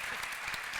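A brief burst of crowd clapping for panelists at the EUCYS 2019 young scientists contest in Sofia, a thick even patter of many hands at moderate volume.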